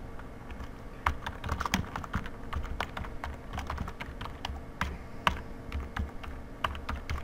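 Rapid typing of Java code on a computer keyboard, a close, steady stream of light key clicks with sharper taps now and then, continuing throughout with no one speaking.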